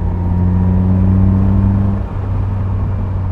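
A Caterham Super Seven 2000 with its naturally aspirated 2-litre Duratec engine droning loudly at steady revs with strong low harmonics, then briefly dipping as the throttle shifts before it carries on.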